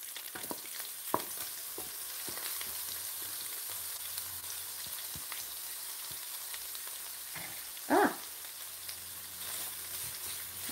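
Peppers and onion sauté in a hot pan with a steady, close sizzle. Occasional stirring scrapes and clicks sound through it, along with one brief louder knock near the end, and no one talks.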